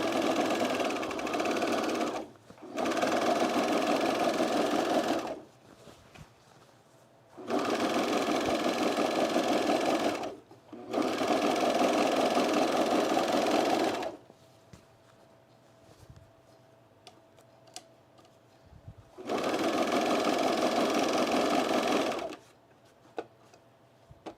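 A sewing machine stitches cargo pants in several sustained runs of rapid, even whirring, each a few seconds long, separated by quiet pauses, close and clear with no talking.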